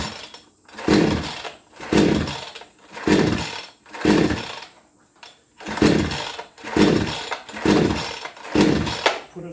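Giantz chainsaw being pull-started repeatedly without catching, about eight loud rhythmic rasping pulls of the starter cord, each a short whirring burst separated by brief gaps, close up.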